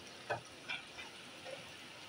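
Sitabhog sweet dough sizzling quietly in oil over a very low gas flame, a steady soft frying hiss with a few brief louder crackles as pieces are dropped in.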